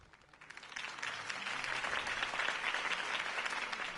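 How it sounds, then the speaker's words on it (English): Crowd applause for a campaign speech in the Batman Telltale video game, a steady wash of many clapping hands that swells in over the first second and holds loud and dense to the end. "If only Mr. Wayne, my campaign's largest backer, could have heard that applause"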